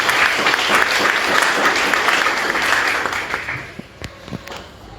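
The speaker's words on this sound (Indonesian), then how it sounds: "Mari kita berikan tepuk tangan." Audience applause at a high school student council (OSIS) inauguration ceremony: dense, steady clapping from a crowd fills the first three seconds, then thins out into scattered, fading claps.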